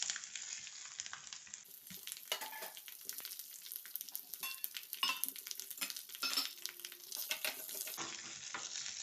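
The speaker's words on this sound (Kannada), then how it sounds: "ಸಾಸಿವೆ ಸಿಡಿತಾ ಇದೆ, ಒಗ್ಗರಣೆ ಕೂಡ ರೆಡಿಯಾಗಿದೆ." Mustard seeds and curry leaves spluttering in hot oil for a tempering, a dense stream of sharp crackles and pops that runs loud and continuous from start to finish.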